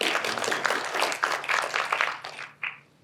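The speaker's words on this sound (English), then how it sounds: "Quick round of applause for Nick, please" A quick round of applause from a panel discussion audience, modest distant clapping that thins out and fades to a few last claps within about three seconds.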